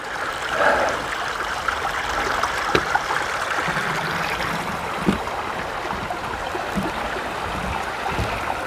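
River water flows steadily under a footbridge on the Appalachian Trail, a continuous broadband rush with soft trickles and a few faint knocks over it.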